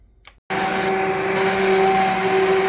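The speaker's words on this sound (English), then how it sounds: "There's Tom using the immersion blender to break up all the tomatoes." An immersion blender breaking up tomatoes for homemade spaghetti sauce starts abruptly after a quiet moment, then runs as a loud, steady motor whine with a constant pitch, close by.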